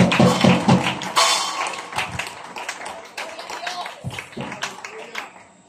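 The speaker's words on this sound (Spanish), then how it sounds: "Denle un aplauso a Cristo." A church congregation gives scattered, uneven applause during a worship service. The claps are sharp and close at first, then thin out and fade, with voices mixed in.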